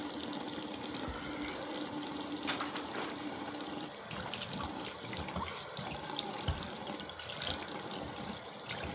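Water runs steadily from a sink tap, gushing and splashing continuously as bubbles are rinsed out of a snake enclosure's coconut husk bedding, with occasional small knocks under the constant flow.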